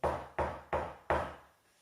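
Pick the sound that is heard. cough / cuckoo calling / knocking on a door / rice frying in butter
knocking on a door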